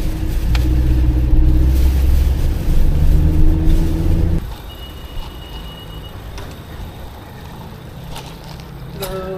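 A car driving, with a steady loud engine and road rumble that drops to a quieter hum midway, with faint clicks near the end.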